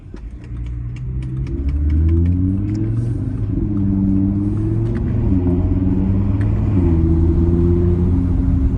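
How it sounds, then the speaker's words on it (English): An Audi TT RS five-cylinder engine rumbles up through the rev range while sharp exhaust pops and crackles snap over it in quick bursts, close and loud. "Exhaust does some nice pops and crackles."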